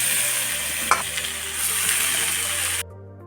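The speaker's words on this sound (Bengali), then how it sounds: "পেঁয়াজটা একটু ভাজা ভাজা করেই লাউয়ের চোকলাগুলো দিয়ে দিব" Onions frying in hot oil in a pan while being stirred, a steady close sizzle with scraping stir strokes that cuts off near the end, leaving only a low hum.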